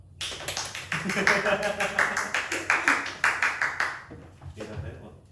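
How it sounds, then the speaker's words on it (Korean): A church congregation at a Sunday service claps in a steady rhythmic beat, a run of sharp, evenly spaced hand claps that stops near the end, followed by a brief voice. "우리 이상형제를 박수로 맞이하도록 하겠습니다."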